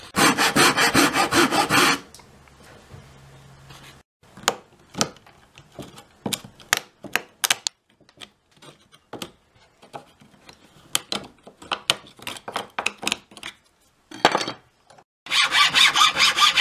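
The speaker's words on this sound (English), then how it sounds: "I'm going to cut this with the flat saw" A flat saw cuts wood for a coffee can guitar in loud, rapid sawing runs at the start and end, with sparse, sharp scraping strokes in between.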